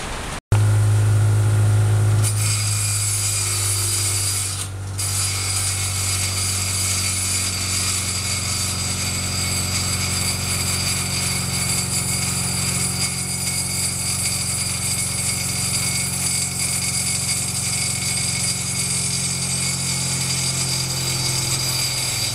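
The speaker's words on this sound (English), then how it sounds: "grind the other end with the angle grinder, and I'm going to make it shiny like this" Angle grinder grinding and polishing a metal workpiece, a loud steady high-pitched whine with a harsh grinding rasp, running continuously after a brief start-up burst, with no talk over it.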